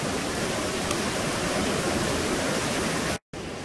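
River water flowing steadily on a bush walk, a broad, even rush close to the microphone, unbroken until a brief dropout near the end.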